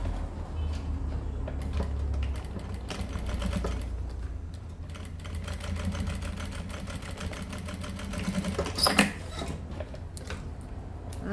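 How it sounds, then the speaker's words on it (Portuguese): A sewing machine runs a continuous stitching line along a zipper seam on a fabric pouch, a steady rapid mechanical patter with a brief louder clatter near the end. "Vou alinhar aqui e passar uma costura."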